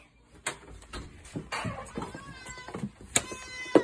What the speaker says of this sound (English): That's our cat. This is my cat.